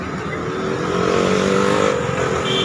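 Cars and motorbikes stream past on a street outside a food hub, a steady near traffic roar with engines swelling and fading as vehicles go by, no talk.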